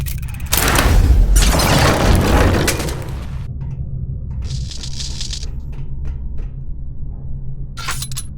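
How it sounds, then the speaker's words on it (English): Explosions in a video game: a loud deep booming blast with rumbling debris lasting a few seconds, followed by quieter hissing bursts and faint ticks, no voices. "The explosions didn't affect the room."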